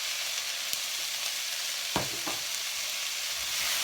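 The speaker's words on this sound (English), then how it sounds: "Stir them around slightly." Black beans dumped into a hot pan sizzle steadily up close, with a couple of soft scraping strokes as they are stirred.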